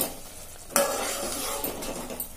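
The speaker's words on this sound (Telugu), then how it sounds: "ఇట్లా కదుపుకోవాలి కొద్దిసేపు." Stirring biryani masala in a pot gives a steady sizzling, scraping sound close up, with a sharper burst of frying noise partway through and no voices.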